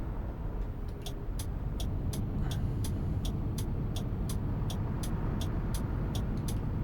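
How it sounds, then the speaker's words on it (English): Steady low rumble of a VDL double-decker coach rolling along the road in Fernbus Coach Simulator, with a constant broad drone and a regular ticking overhead, heard alone at even loudness throughout. "the road noise changes"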